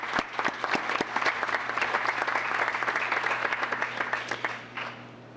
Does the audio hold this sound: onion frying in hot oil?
no